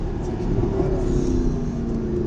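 A Mercedes SLS AMG engine revving hard as it accelerates, a steady loud rumbling drone with a faint rising tone, continuous throughout with no talking.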